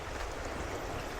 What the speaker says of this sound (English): Look and hear the water.